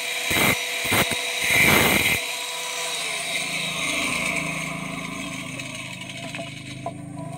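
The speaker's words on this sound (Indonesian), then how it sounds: "Kita luruskan menggunakan gerinda." An angle grinder works on a part of a 2-inch swing-type hydram pump waste valve, giving three short loud grinding bursts in the first two seconds, then a duller lower whir with faint scraping that fades toward the end.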